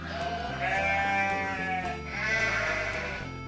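Sheep bleat loudly and close in two long, wavering calls, one after another, with no voices over them.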